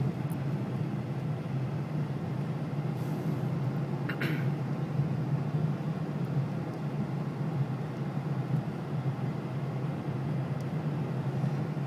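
A car travels Calgary roads in bad weather, a steady low rumble of engine and road noise from inside the cabin, with a couple of brief faint clicks and no one speaking.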